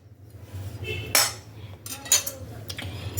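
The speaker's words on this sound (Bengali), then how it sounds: "এবার একটা চামচের এরকম পেছন দিয়ে আস্তে আস্তে আলুগুলোর মাঝখানে একটা হোল তৈরি করতে হবে" The back of a metal spoon scrapes and clinks against raw peeled potatoes as their centres are hollowed out for stuffed Kashmiri aloo dum, giving a few sharp clicks and soft scraping strokes over a low kitchen hum.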